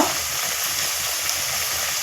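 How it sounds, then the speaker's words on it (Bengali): Potato-stuffed Bengali tiffin snacks deep-fry in hot oil until crispy. The sizzle is loud, close and steady, a dense unbroken crackle that carries through the whole stretch with no voices. "এই টিফিনগুলো আমি ভেজে নিব একদম মুচমুচে করে ভেজে নিব"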